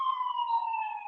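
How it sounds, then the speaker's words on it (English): An ambulance siren sounds outside, a steady, fairly faint wailing tone held briefly and heard from a distance through an open door, with no talking over it. "there's an ambulance coming."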